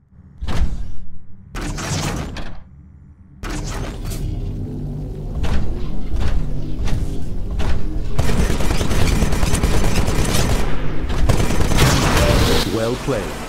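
Absorbed gunfire refired from a Titan's Vortex Shield in the sci-fi shooter Titanfall: a few sharp separate bursts, then a loud, dense, sustained barrage of rapid shots and impacts that rolls on for about ten seconds.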